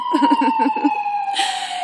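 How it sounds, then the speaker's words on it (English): A wailing perigee emergency siren sweeps steadily, loud and close, with a brief rhythmic honking pattern at the start. "I can listen to the siren."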